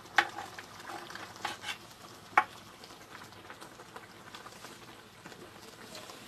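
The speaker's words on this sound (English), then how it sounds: "our meat is still cooking" Meat frying in a pan gives a steady low sizzle throughout, with a few sharp clicks and taps of a utensil stirring it at close range.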